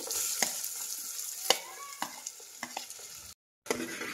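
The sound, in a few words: sautéing onions in a pan until reddish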